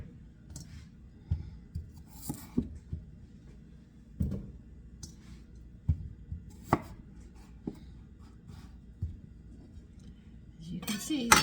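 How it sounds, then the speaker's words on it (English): A knife cuts small starchy potatoes in half on a cutting board for a mashed potato gratin, giving irregular, fairly quiet chops and clicks spread over several seconds, with a faint utensil clink at the end. "the small potatoes, just cut them in half"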